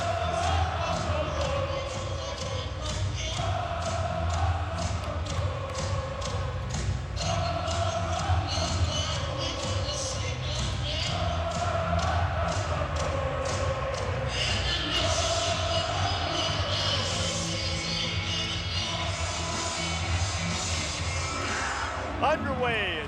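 Steady roar of a record, standing-room-only home crowd inside Duke's basketball arena before a game against the Panthers, loud and continuous, with faint rhythmic thuds and chanting swells.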